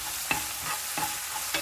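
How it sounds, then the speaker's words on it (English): Soy sauce boiling in a pan with eggs and shrimp during stir frying, a steady sizzle broken by a few sharp scraping stirs of a utensil against the pan. "Add 1 tablespoon of soy sauce to the corner of the pan, and when it begins to boil, combine it with the other ingredients."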